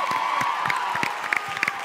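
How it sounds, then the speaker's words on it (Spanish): An audience at an event in the Teatro Coliseum in Barcelona applauds and cheers. Close, busy clapping mixes with scattered whoops, shouts and a sustained crowd roar. "Fuerte aplauso también para el Teatro Coliseum"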